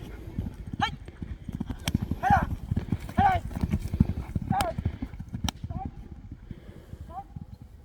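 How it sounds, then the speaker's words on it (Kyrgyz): A racehorse gallops in a Kyrgyz baige horse race, its hooves clip-clopping in a fast, steady rhythm. Several sharp whinnies cut through, and voices are heard underneath. "Эми акырында атты күлүктү бир чабып коелу."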